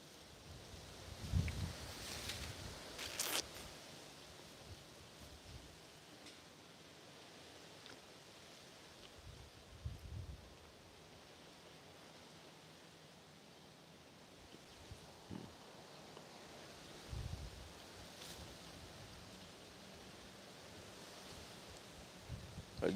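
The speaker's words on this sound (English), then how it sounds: "You can see how windy it is." Wind gusting outdoors during a walk, with soft rustling and low buffeting against the microphone, a few stronger bursts rising out of a faint, steady background.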